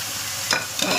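Whole cumin, fennel seed, black pepper and turmeric powder hitting hot oil in a pan for a liver curry, a bright sizzling hiss that flares up twice over about a second, close and fairly loud.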